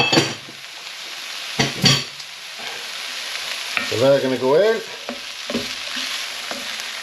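Bacon and chopped ham sizzle and crackle steadily in a hot pan, with a few stirring scrapes and a voice speaking briefly over the frying.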